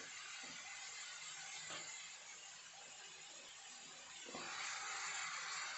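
Onion and green chilli sizzle in a hot pan, a soft, steady hiss that carries throughout and grows slightly louder near the end, with a few faint knocks of a spoon against the pan.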